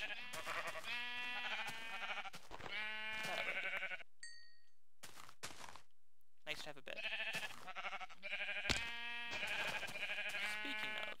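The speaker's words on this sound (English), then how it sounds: "I'm gonna kill these sheep." Sheep in the video game Minecraft bleat again and again in short, nasal, wavering cries, close and clear, with a brief pause in the middle and a voice speaking once.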